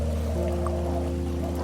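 Rushing creek water echoing through a tunnel in Goosebumps: The Game, a steady low rumble and hiss that holds for the whole clip with a faint drip near the middle.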